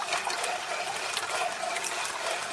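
Water gushes steadily through a Royal Sovereign slow juicer, rinsing out strawberry residue; a continuous, fairly loud hiss of rushing liquid runs throughout with no speech.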